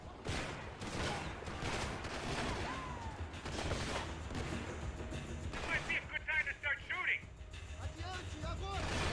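Sniper rifle fire in Max Payne 3 on Xbox 360 comes as scattered, fairly faint shots and mechanical clatter, mixed with talking throughout.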